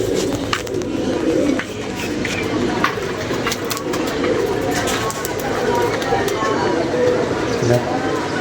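Pigeons coo steadily through a constant low murmur of birds, with people talking over them throughout.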